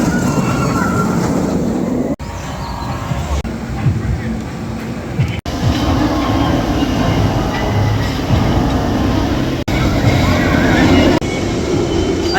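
The Nemesis roller coaster train at Alton Towers rumbles loudly and continuously with a low rolling roar, with brief cuts, while people talk over it.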